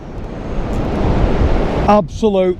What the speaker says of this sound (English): there's a little bit of a chill in it as well, that wind